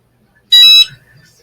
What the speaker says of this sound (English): You hear that beeping? That means it's ready.